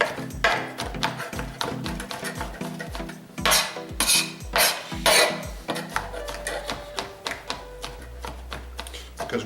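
A knife chops smoked chicken into small pieces on a board, striking in quick, regular strokes with a few louder, scraping hits, close and clear with no talking.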